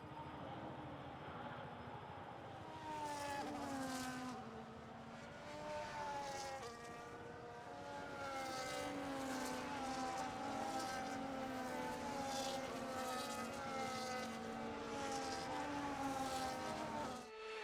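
Race cars on a formation lap in the F1 25 video game hold a steady engine drone, rising and falling pitch as several cars pass, with no voices.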